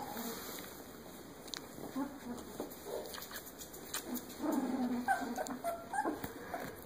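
Newborn puppies in a litter whimper and yip faintly in short, scattered cries, close by but soft, mixed in with people talking and some light background noise.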